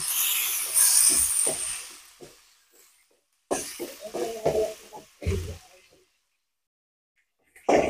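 Sliced onion dropped into hot oil with browned garlic for a Sylheti pangas fish curry with satkora citrus, giving a loud hiss that fades, then fresh bursts of sizzling, with brief talk between.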